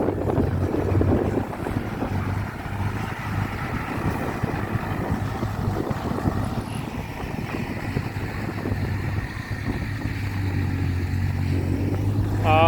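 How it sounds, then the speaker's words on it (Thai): Strong wind buffets the microphone outdoors at a site with turbo dump trucks, a steady roaring gust noise that fills the whole stretch with no talk over it. "โอ้ลมแรงมากเลย"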